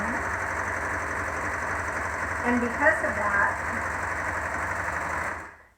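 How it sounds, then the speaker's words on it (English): A serger runs continuously at a steady mechanical hum, stitching and trimming the raw edges of fabric for a modified Olson face mask, then stops abruptly at the end while a person speaks briefly over it. "because we're using a serger and not a sewing machine, we don't have to fold over and then sew"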